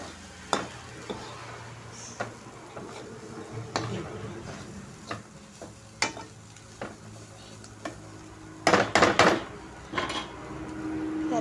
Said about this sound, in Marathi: ह्याच्यामध्ये ही थोडीशी कोथिंबीर घालते आणि खोबरं घालते आणि एक अर्धा मिनिट व्यवस्थित परतून घेते